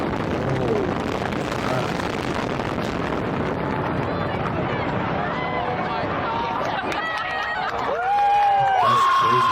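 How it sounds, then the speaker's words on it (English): Crowd cheering and whooping at a Las Vegas hotel demolition, a dense roar of many voices with a swell near the end, some individual shouts rising above the mass. "iconic and charming hotels are being demolished while crowds of people cheer for its"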